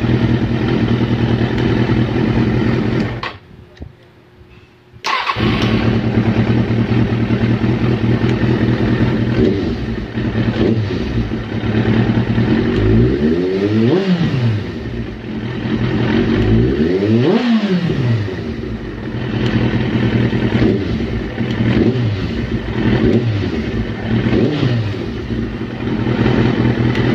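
A Kawasaki ZX-6R motorcycle engine being troubleshot after carburetor work idles loudly up close, cuts out briefly, then restarts and is blipped through a series of sharp throttle revs that rise and fall repeatedly.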